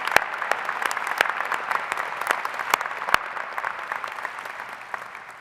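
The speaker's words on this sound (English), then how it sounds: "Let's give her another round of applause." Applause from the audience at a University of Michigan graduate commencement, a dense, steady patter of many hands clapping at moderate distance, slowly fading toward the end.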